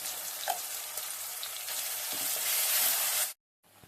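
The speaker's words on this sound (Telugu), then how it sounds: "ఇప్పుడు మనం మిక్సీ కొట్టుకున్న మిశ్రమాన్ని వేస్తున్నాము" Ground onion paste sizzles hard as it hits hot tempering oil in a pan, a loud steady frying hiss with light stirring, cut off abruptly near the end and returning faintly.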